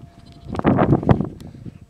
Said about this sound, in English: if I turn the computer around, there are all the sheep